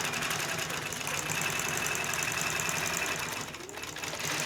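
A quilting sewing machine stitches a block-by-block pattern, its steady mechanical hum and rapid needle chatter running continuously up close with a brief dip near the end.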